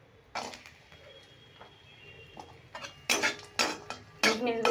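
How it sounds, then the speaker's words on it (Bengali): Raisins fry in a pan for sabudana pulao as a spatula scrapes and clatters against the metal, quiet at first, then several loud, separated scraping strokes toward the end. "কিশমিশগুলো ভেজে নিচ্ছি।"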